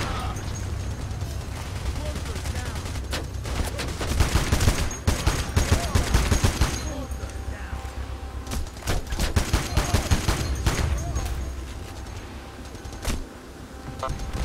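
Sustained bursts of automatic gunfire during a brutal heist level in Payday, loud rapid volleys clustering in waves with brief lulls between, layered over chaotic game noise.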